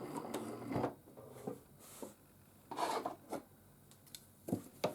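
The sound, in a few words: sewing machine free motion quilting a seam line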